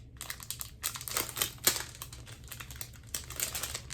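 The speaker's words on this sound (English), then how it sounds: "Rustling." Yarn supplies being unpacked set off close, dense packaging rustle, with irregular crinkly crackles in bursts that briefly pause and then resume.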